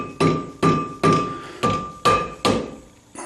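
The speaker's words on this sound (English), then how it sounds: "It's a dead blow hammer so that I don't mess up my calipers." A dead blow hammer tapping on a rear brake caliper of a 1976 Corvette, giving seven evenly spaced, close, dull thunks with a faint ringing tail, alone without talk.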